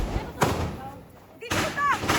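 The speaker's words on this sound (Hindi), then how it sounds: "ये देखो मम्मी जी आपसे बड़ा लग रहा है पटाखा" Diwali firecrackers going off at a family celebration, two sharp loud bangs about a second apart, with some whistling fizz and voices in the background.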